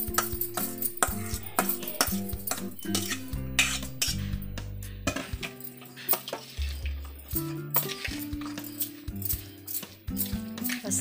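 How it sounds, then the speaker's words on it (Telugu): Vegetable pieces being mixed by hand or spoon into chili powder and oil for a mixed vegetable pickle, with wet squishing, stirring and clinking of utensils against a bowl, close and continuous. "ఇలా మంచిగా కలుపుకున్న కారంలో ఈ ముక్కలన్నీ వేసి"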